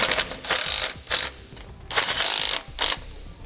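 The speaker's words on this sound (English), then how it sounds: "and we'll snug down those bolts." Ratchet snugging down bolts on a rear anti-sway bar of a 2017 Ford E-Series van, four short bursts of rapid clicking separated by brief pauses, close and fairly loud.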